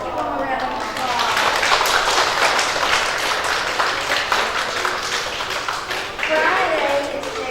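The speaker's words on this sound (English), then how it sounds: "let's give them a round of applause." An audience at a school chapel service applauds the preschool children, steady dense clapping that runs for several seconds with cheering voices mixed in.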